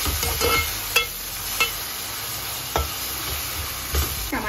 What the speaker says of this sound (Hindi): अब हम इसमें डाल देंगे जिंजर गार्लिक पेस्ट। और इसे चला लेंगे।